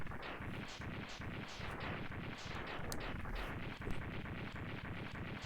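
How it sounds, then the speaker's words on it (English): Blizzard Buffalo boss explosion sequence in the video game Mega Man X3: a rapid, continuous string of booming blasts in quick rhythm, dense and steady throughout. "this explosion sequence takes a little bit"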